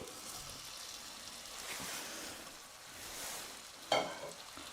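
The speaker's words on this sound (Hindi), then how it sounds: "इसको भी हम हाई फ्लेम पर 1 से 2 मिनट तक भूनेंगे" Masala and vegetables for a cauliflower and green pea curry sizzle while frying on high flame, a steady soft hiss with light stirring and one sharp clatter near the end.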